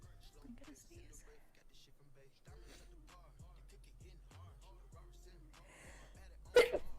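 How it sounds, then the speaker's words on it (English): A woman's allergy sneeze, one sharp loud burst near the end after quiet breathy whispering and soft sounds leading up to it. "I'm gonna sneeze."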